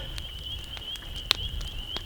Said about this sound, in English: Hear the frogs in the background.